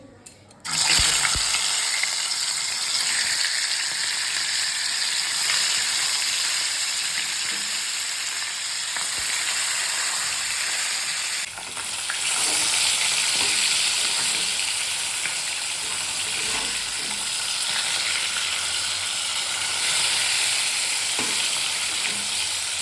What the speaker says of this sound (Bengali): আমার মাছ ভাজা কমপ্লিট